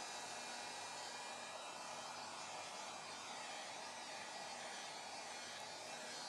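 A heat tool runs continuously to dry pigment on a craft book box, a steady close whooshing blow with no breaks.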